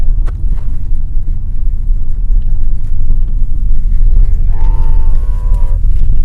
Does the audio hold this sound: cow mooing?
yes